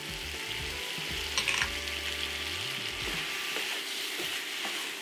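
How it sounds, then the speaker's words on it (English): Potatoes and jalapeno go into a pan of simmering white bean curry with potatoes and carrots, giving a steady close sizzle and bubbling with a few clinks and scrapes from stirring, and no talking. "We can add in the potatoes so they soak in the flavors. Add the jalapeno."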